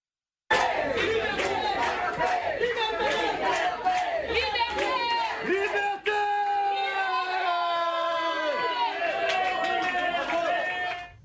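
Crowd of people outside a brasserie in Nice shouting and chanting in unison, loud and close, with overlapping voices, whoops and rising cries throughout.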